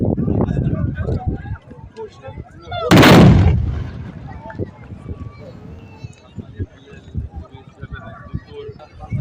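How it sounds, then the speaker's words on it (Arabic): A volley of traditional black-powder rifles fired together by a tbourida troupe of horsemen sounds as one loud booming blast, followed by the noise of a crowd and an announcer talking. "سلسله طرقات البارود الاولى"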